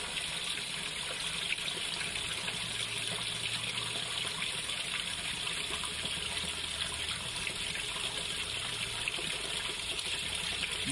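A Speed Queen TR7003WN top-load washer fills with rinse water, a steady, fairly faint gushing stream that runs evenly throughout without pause or speech.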